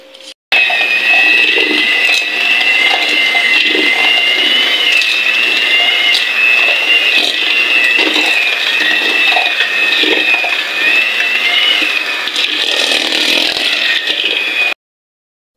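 An electric mixer runs steadily, whirring at a loud, constant pitch as it beats polvoron cookie dough, starting and stopping abruptly at either end.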